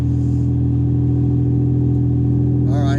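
A 2000 Dodge Dakota Sport 4x4 with dual exhaust and the catalytic converter removed holds a loud, steady low rumble throughout, revving and droning close by, with a brief higher whine near the end.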